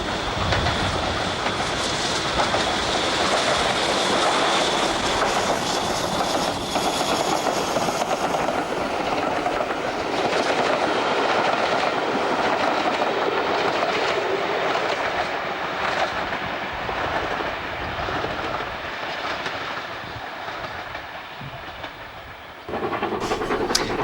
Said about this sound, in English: our next southbound is 2 freight engines